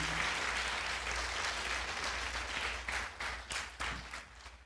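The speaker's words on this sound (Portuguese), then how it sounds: "Quem pode aplaudir ao Senhor?" A church congregation applauding during a service, a steady wash of many hands clapping together at a fairly low level, thinning and becoming more uneven toward the end.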